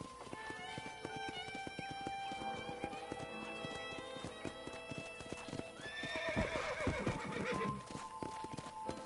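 Horse hooves clip-clopping steadily in a Red Dead Redemption ranch corral, rhythmic and close, with a horse neighing partway through and no talking.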